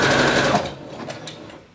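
A sewing machine stitching a button onto fabric runs in a fast, steady mechanical whir for about half a second, then slows and stops, leaving a few faint clicks.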